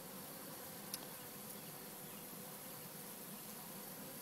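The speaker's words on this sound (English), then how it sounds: "I still see bees sitting there fanning like they're supposed to be doing." Honey bees fanning at a swarm trap hive make a faint, continuous buzzing drone that holds steady throughout, with no voices.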